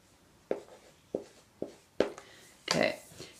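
A word is written by hand during a spelling lesson, heard as a series of short, sharp pen or marker taps and strokes on a surface, ending in a longer scratchy stroke, close and clear with no talking.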